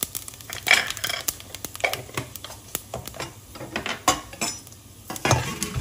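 Whole spices such as fennel seeds being stirred and sautéed in a pan for prawn biryani, with repeated scraping and clinking of a utensil against the pan over a faint sizzle, alone and close.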